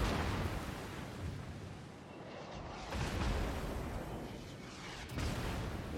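Artillery salvos firing in a video game: deep, broadband booms rolling in at the start, near the middle and again toward the end, each swelling and decaying into a dense roar, fairly quiet overall.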